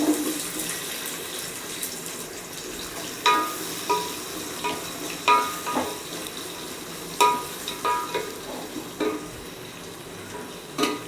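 Chopped onions for a chicken biryani sizzle softly in a pan, a steady low frying hiss punctuated by periodic clinks and scrapes as they are stirred.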